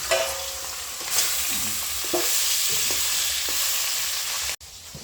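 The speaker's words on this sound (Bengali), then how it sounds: "মাছ ভাজা করছি" Fish pieces fry in a pan for a home-cooked Bengali meal, with a dense, close sizzle broken by repeated scraping strokes of a spatula, ending in an abrupt cut; no one speaks.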